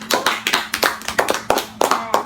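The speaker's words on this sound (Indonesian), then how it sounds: "tepuk tangan dulu untuk kalian semua" A small group claps hands during a role-play counseling session, about a dozen sharp, uneven claps in quick succession over two seconds, close and fairly loud.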